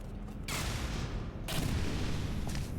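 Explosions in the video game Portal 2, two loud booming bursts with a rumbling roar between them and a fainter third hit near the end.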